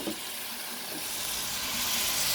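Chicken frying in grease for calabaza con pollo, a steady close sizzle that builds slightly louder across the short stretch, with no talking over it.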